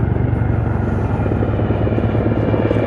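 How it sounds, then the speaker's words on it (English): An Indian Air Force helicopter departs at low level during a firepower demonstration, giving a loud, close, steady rotor thump with engine whine. No one speaks. "Helicopter departs at low level to avoid any detection by the enemy."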